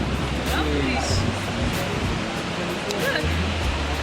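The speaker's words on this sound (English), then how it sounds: "Oh, we just got to the biggest waterfall in North Africa." The biggest waterfall in North Africa roars as a dense, constant rush of broadband noise, with people talking and exclaiming over it.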